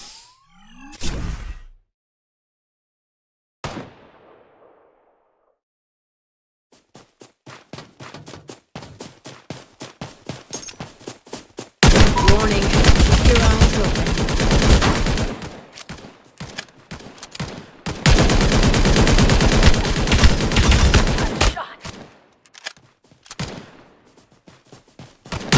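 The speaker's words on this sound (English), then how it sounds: "Warning, incoming bombardment." Incoming bombardment in the mobile shooter Omega Legends: scattered sharp shots building into long stretches of loud, dense rapid-fire blasts, then thinning to sporadic bursts with quiet gaps.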